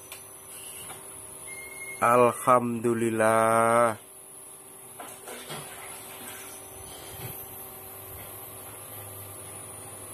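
A small humidifier running indoors sends out a steady soft hiss of mist, with a fan overhead; someone speaks briefly near the start and the hiss continues alone afterward.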